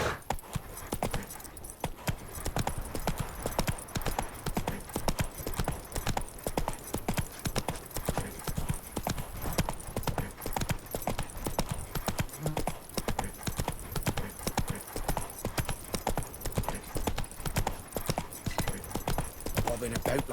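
Geralt's horse Roach gallops in The Witcher 3: Wild Hunt, a steady, rapid clip-clop of hooves running close and continuous throughout, with voices talking over it now and then.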